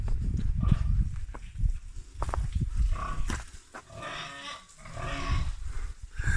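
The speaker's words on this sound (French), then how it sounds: "on a les porcs là-dedans" Pigs grunting and snuffling in a farm pen, a busy cluster of low, rough animal calls that rise and fall close by without pause.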